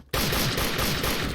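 Video game gunfire: a loud, dense burst starts abruptly after a brief quiet moment and keeps going without letup, sounding like rapid continuous shots.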